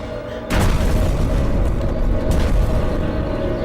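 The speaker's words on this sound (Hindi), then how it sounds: "लेकिन ये एक्सप्लोजन जैसा था।" A deep, booming explosion in a Hollywood action film bursts in suddenly after a brief quiet stretch, then rumbles on loudly with heavy low-end and a second swell of blast noise.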